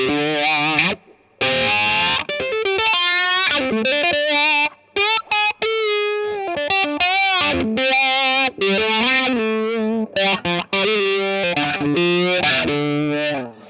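Electric guitar played through a wah pedal with distortion, phrases of sweeping, vocal-like notes with short pauses between runs, loud and close.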